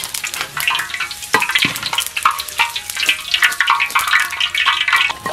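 Garlic fries loudly in hot oil in a wok, crackling and popping densely with stirring scrapes close by, and no one speaks.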